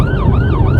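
A police car siren wails loud and close on a blue light run in Norfolk, its tone sweeping up and down in rapid repeating cycles over a steady engine and road rumble, with no voices.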